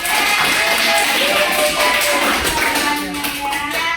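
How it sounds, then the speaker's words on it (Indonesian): A classroom of students clapping together after a lesson on forest ecosystems, a dense burst of many hands that carries on loudly for about four seconds before thinning slightly at the end. "Oke, tepuk tangan."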